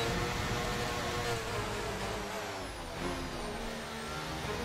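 Racing game car engine held against the rev limiter, a buzzing, stuttering high drone with steady harmonics that dips briefly near the middle, fairly quiet and heard without talk.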